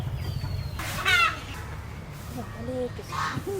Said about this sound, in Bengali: এটা ছেলে হাঁস হাঁসা বলা হয়